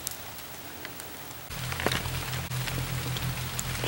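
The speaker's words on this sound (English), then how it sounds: "We've got a little rain shower coming in." A light rain shower falls in a forest, soft patter of drops on leaves and ground that thickens partway through, steady and close over a low hum.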